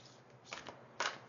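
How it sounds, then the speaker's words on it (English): Playing cards handled for a pick-a-card reading, with two or three soft papery riffles and snaps as pre-shuffled cards are drawn from the deck, faint and close, with no talk. "We're going to draw 3 cards together to help you choose your pile. These are already pre-shuffled."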